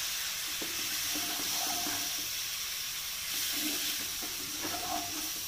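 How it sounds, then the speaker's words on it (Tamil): Masala cooking in a pan hisses and sizzles after a spoonful of water is added, a faint, steady frying crackle with a few soft tonal bubbling notes and no talk. "லைட்டாக ட்ராப் தண்ணி சேர்த்துக்கலாம்,"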